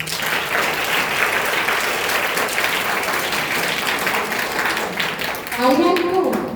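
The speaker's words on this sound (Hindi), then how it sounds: "बच्चों अपने लिए एक बार जोरदार तालियां बजा दो" Loud, dense applause from a crowd of schoolchildren at an Independence Day event, a sustained wash of clapping throughout, with a voice briefly audible near the end.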